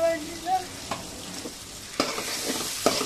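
Spices, tomato and salt stir-fried for a country-chicken curry, a short burst of spatula scrapes and light sizzling with a few sharper knocks against the pot.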